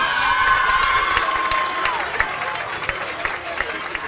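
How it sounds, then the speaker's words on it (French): An audience at a university rector installation ceremony claps in dense, sustained applause that fills the room, with a faint whistling tone near the start and the clapping thinning slightly as it goes on. "ainsi vous applaudissez"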